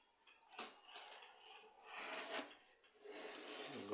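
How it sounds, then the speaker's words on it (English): Quiet rasping strokes of sandpaper on the wooden case of an antique Anglo Swiss clock, several irregular rubs heard faintly up close in a still room. "need a little bit of sanding"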